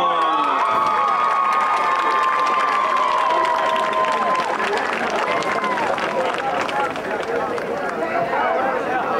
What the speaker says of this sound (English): Let's give a big round of applause for the young ladies and their escorts